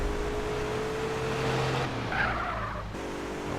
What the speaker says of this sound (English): Almost got ran down by a truck driver right there.